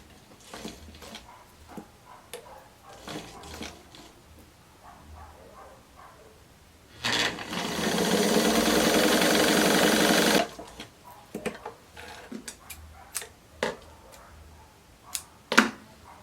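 Sewing a blouse's shoulder seam, a sewing machine runs in one steady burst of about three seconds, surrounded by quiet handling noises and light clicks of the fabric being moved.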